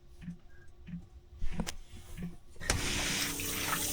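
Shower water runs in a motorhome on a cold day, starting as faint drips and trickles before the spray opens into a steady, close hiss that fills the small space.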